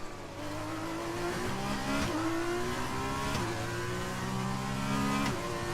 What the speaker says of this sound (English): Brent found the throttle pretty good there.